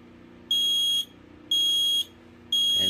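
An I1040 micro-profile smoke alarm under test gives three loud, piercing half-second beeps at an even one-second rhythm, sounding alone over a low background hum.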